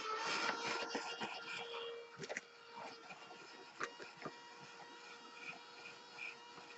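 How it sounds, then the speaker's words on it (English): A hair dryer blows steadily over a freshly worked art journal page, a faint, continuous airy whir with small clicks and rustles near the start, heard alone and without talking. "so I'm going to hit it with the dryer"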